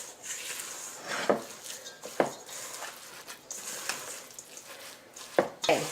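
Gluten-free vegan granola bar ingredients are stirred in a bowl, soft scraping mixed with a few sharp knocks of the spoon against the bowl, close up and with no talking.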